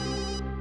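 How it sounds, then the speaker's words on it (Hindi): A phone rings in a laboratory, a steady electronic ringtone that holds through the short moment at moderate loudness, with no voices over it. "घंटी तो लैब में बज रही है"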